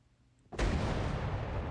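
Ship mortar shot in the naval video game The Pirate: Caribbean Hunt, a sudden loud blast after a quiet moment, followed by a sustained roaring rumble that fills the rest of the moment.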